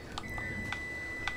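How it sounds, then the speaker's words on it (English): An alarm goes off as a series of short, sharp electronic beeps at irregular intervals over a faint background hum, with a thin steady tone running beneath, and nobody speaking. "of course your alarm goes off right now"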